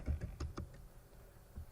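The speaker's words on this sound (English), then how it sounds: "I'm going to type umount" A few quiet keystrokes on a computer keyboard while entering a Linux umount command, several soft taps in quick succession followed by a pause and one more faint tap.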